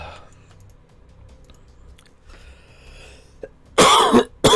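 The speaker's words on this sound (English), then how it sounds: "Excuse my cough." A quiet workspace with faint clicks, then two sharp, loud human coughs close to the microphone near the end, the second brief and clipped.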